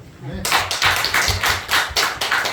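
A church congregation at a Sunday afternoon service claps together in a steady rhythm. Roughly eight distinct, evenly spaced bursts of collective clapping ring out close and loud over a couple of seconds.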